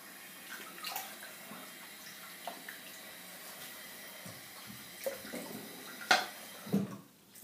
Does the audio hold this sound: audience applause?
no